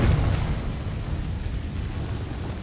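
A Confringo spell explosion in the video game Hogwarts Legacy, played on Xbox in hard mode, heard as a loud, dense burst that rumbles steadily for a couple of seconds, close and full, with no speech over it.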